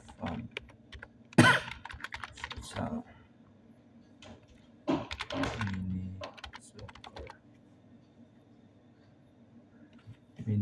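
Typing on a computer keyboard while adding text during video editing, close clicky keystrokes in two scattered bursts separated by quieter pauses with faint background hum.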